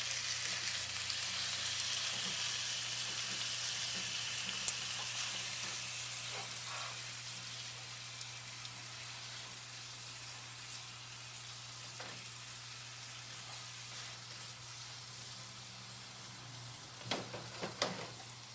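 Lamb loin frying in a pan with garlic and rosemary, a steady broadband sizzle throughout, easing slightly midway, with a few soft clinks and turning sounds near the end.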